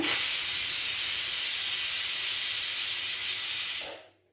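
A pressure cooker cooking pineapple for pachadi vents steam in one long, steady, loud hiss for nearly four seconds before abruptly cutting off into quiet.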